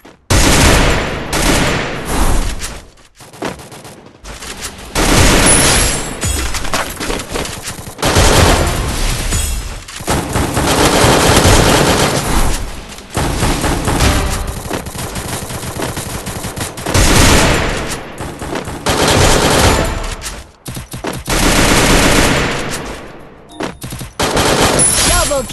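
Sustained bursts of automatic gunfire from an MP5 and a Woodpecker marksman rifle in a solo-versus-squad battle royale shooter match, loud and nearly continuous with brief gaps between volleys and occasional booms.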